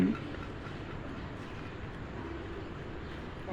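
Low continuous rumble of a train in motion on the Bhuj line in India, heard from inside, with no talking.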